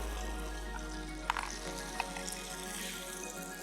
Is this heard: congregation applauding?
no